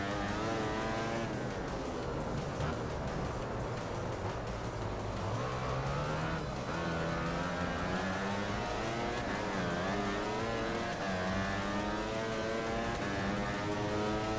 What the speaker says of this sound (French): Et je vous laisse avec le son du moto.